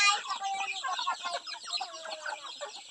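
Native farm chickens cluck in a steady overlapping chorus, close and busy, with occasional higher calls mixed in and no talk.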